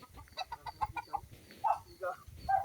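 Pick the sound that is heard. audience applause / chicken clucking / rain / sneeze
chicken clucking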